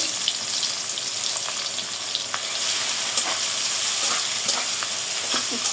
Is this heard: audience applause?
no